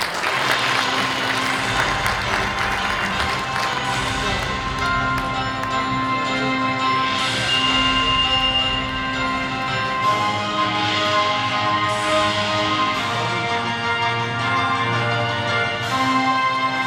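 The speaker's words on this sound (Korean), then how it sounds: "큰 박수 부탁드리겠습니다" An audience at an international drone sports and entertainment conference applauds, giving a steady, loud wash of clapping that fills the room for the whole stretch.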